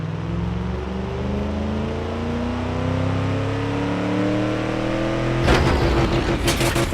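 Simulated 409 big block Chevy V8 in the Automation engine-building game, revving steadily upward with rising harmonic tones for about five seconds, then breaking into a harsh, crackling burst as the engine fails.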